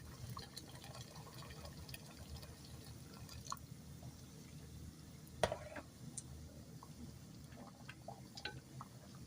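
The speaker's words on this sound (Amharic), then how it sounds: "የፈላ ውሃ ነው ከላይ የምጨምርበት።" Boiling water poured from above into a cooking pot gives a soft, steady trickle and splash with a few brief drips, low and continuous against a quiet kitchen background.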